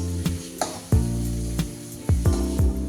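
Chopped onion and green chili sizzling in hot oil for chicken fried rice, with repeated clinks of a spoon against the pan over a steady, close fry.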